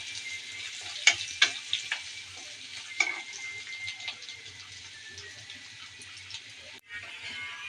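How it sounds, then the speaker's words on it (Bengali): Onion and garlic fry in oil in a pan as they start to brown, giving a soft, steady sizzle with a few crackling pops early on, heard up close with no talking. "পেঁয়াজ আর রসুনটা লাল লাল হয়ে যাচ্ছে।"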